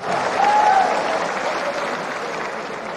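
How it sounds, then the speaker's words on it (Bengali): An audience at a political speech claps steadily, dense applause filling the whole stretch at close range with a slight swell early on, the crowd unseen but loud. "আপনাদের সবাইকে আমি একটা করতালি দিতে চাই"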